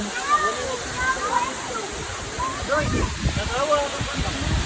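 Water pours steadily at Tumalog Falls in Oslob, a constant hissing rush beneath nearby chatter and voices throughout.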